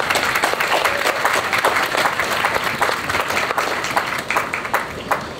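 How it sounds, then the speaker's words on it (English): Applause from the audience at a U.S. citizenship naturalization ceremony after a children's choir sings the national anthem: dense, sustained clapping from a large crowd, steady and loud across the whole stretch. "How about a round of applause for them?"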